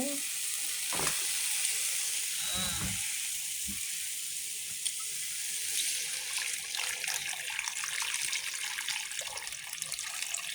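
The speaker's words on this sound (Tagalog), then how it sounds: "At lagyan ng sabaw." Broth is poured into a pot of sautéed garlic, onion, ginger and pork ribs, giving a splashing pour and a hiss of sizzling that settles into a softer, ongoing bubbling and crackle.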